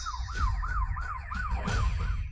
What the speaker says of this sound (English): The police sirens outside must be here to arrest you.